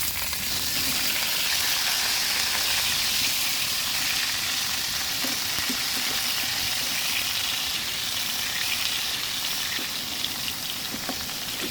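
Marinated chicken pieces for chicken afritada fry in hot oil, a steady loud sizzle with crackling pops throughout, no voices.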